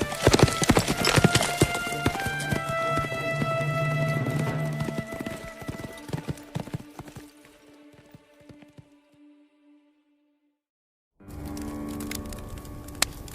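Horse hooves clip-clop steadily and loudly at first, then fade into the distance as a rider leaves, giving way to a brief silence before another sound begins.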